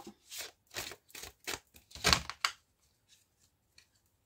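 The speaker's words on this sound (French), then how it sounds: "Donc, je vais bien mélanger mes cartes." Oracle cards being shuffled by hand, several soft riffling bursts in steady rhythm over about two and a half seconds, close and fairly quiet, then near silence with a couple of faint taps.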